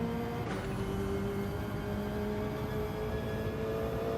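Race cars in a racing video game, a steady engine drone with a brief sweeping whoosh early on, then a constant, even hum at moderate loudness.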